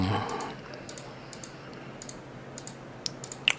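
Light, scattered key clicks from a Conektia Cheery Bluetooth keyboard paired with a tablet, a few soft taps close by with irregular spacing and a couple of sharper clacks near the end.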